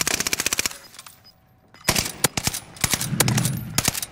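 Automatic gunfire in Call of Duty: Modern Warfare comes as rapid, loud bursts of shots, with a short lull in the middle before more clustered volleys follow.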